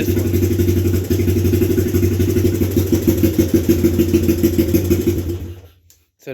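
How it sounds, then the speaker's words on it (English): A Honda ATC 200X three-wheeler with a modified cam idles loud and close, a steady thumping single-cylinder rumble with a slightly lumpy pulse, then cuts out abruptly near the end. "Now this one doesn't idle as crazy as that other bike."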